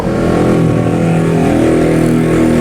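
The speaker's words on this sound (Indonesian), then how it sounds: "Wah, motor-motor." Loud motorcycle engines roar and rev nearby, a sustained throaty drone rising and falling without pause, in the early morning dark during Ramadan.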